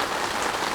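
Rain falls on an ogawa car-side lodge tent during car camping, a dense, even patter of drops drumming steadily on the fabric with no talk.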